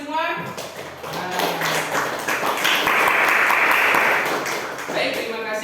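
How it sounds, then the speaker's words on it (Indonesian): Schoolchildren in a classroom applaud with a burst of many hands clapping that swells and holds for a few seconds, with voices heard at the start and end. "Baik, beri tepuk tangan untuk kalian semua."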